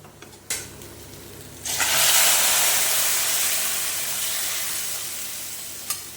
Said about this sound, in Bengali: এবারে ওই স্টুটাকে এখানে ফোড়ন দেব